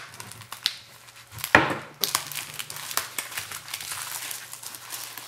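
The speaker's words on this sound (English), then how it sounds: "And here we have more bubble wrap." Bubble wrap packaging is handled and crinkled close up, a run of light crackles and rustles with one sharper snap partway through, continuing in uneven bursts.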